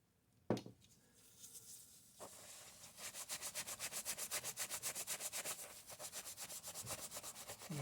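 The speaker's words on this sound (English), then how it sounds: "I'm going to try to do some steel wool first." Steel wool rubbing the brass cylinder of a Dynacord Torpedo tape echo, a close, fast, rhythmic scrubbing in even back-and-forth strokes after a sharp knock at the start.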